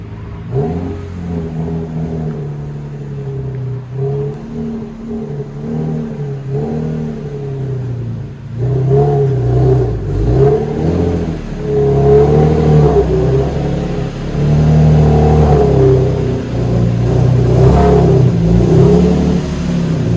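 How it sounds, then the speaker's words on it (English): An Infiniti G35 coupe engine idles steadily, then revs up louder and rumbles unevenly as it creeps forward into a garage, no voices present. "I'm gonna go ahead and move this car into the garage"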